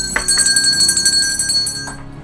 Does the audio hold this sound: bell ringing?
yes